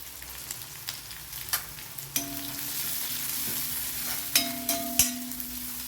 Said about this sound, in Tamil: இது நல்லா டீப்பாக ஃப்ரை ஆகணும் பாருங்க